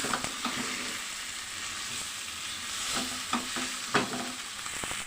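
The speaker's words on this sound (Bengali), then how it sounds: "দেওয়ার পর আলু আর ডিম মশলার সাথে খুব সুন্দর করে কষিয়ে নিচ্ছি" Fried eggs and potatoes being stirred into masala in a pan: a steady bright sizzle with scattered scraping strokes of a spoon, moderately quiet and close, no talking.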